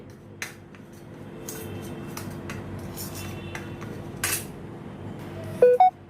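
Macaroni gets tossed with a Kashmiri red chili and black salt masala, a soft dry rustling stir in a bowl with a few sharp metal clinks near the end, close and without talk.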